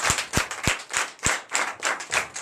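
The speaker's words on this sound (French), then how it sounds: "je vous demande encore d'applaudir très très fort pour cette foi" A church congregation at a Sunday service claps in a strong, regular rhythm, with sharp, evenly spaced hand strikes that carry on without pause.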